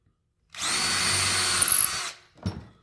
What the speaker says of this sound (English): take this 3/16 and drill a hole